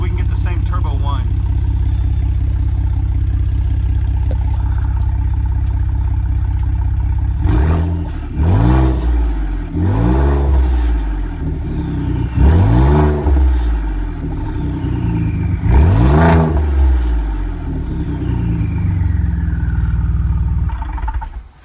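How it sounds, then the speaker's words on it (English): A 2017 Ford Raptor with its exhaust deleted idles with a low steady rumble, then gets blipped repeatedly, each rev rising and falling with a sweeping turbo whine, loud and close. "So we've got turbo whine."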